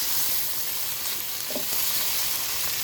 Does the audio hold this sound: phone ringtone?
no